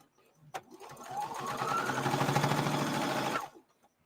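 A sewing machine runs steadily for about three seconds, stitching through fabric with a fast mechanical whir, close and fairly loud, starting after a sharp click and stopping abruptly.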